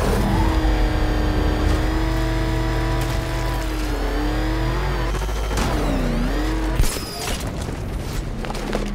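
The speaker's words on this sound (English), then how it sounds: "It all worked out, Batman. We're already here. With my awesome driving" A car in the Batman Arkham Knight video game drives and revs loudly, engine tone rising and falling in sweeps, with a sharp boom or impact near the end.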